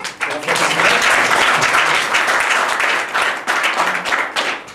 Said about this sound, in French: On peut l'applaudir, il est venu filmer.